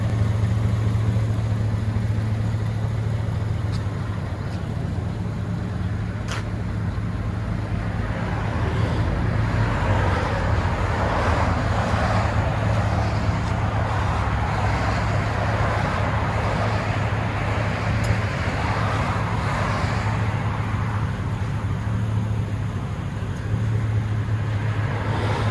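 Steady low rumble of a 2001 GMC Sierra 5.3L V8 with dual straight-pipe exhaust, heard from inside the cab while driving in traffic, a continuous drone with road noise and no talking.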